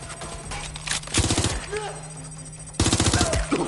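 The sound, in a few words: gunfire in a video game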